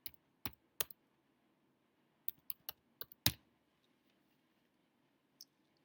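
Typing on a computer keyboard, quiet scattered key clicks in short bursts with pauses between, close and isolated in a silent room.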